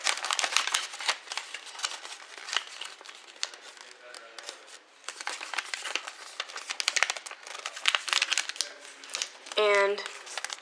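Paper crinkling and rustling as a sheet is opened and reverse folded into an origami Transformer, close and continuous with sharp crackles, ending in a brief high squeak.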